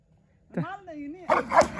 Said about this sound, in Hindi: एक कुत्ता काफी दलेर है काफी डेंजरस कुत्ता है